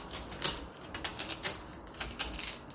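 A knife shaves the skin off a pineapple in a quick series of short, crisp scraping strokes, faint and close, with no talk.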